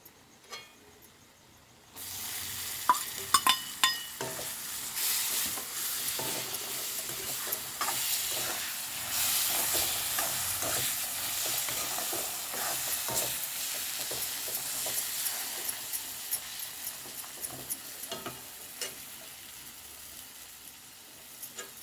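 Tomatoes hit hot oil and masala in a pan for egg biryani, with a few sharp knocks first, then a loud sudden sizzle that hisses steadily, dotted with spoon stirs and small pops, close with no voices.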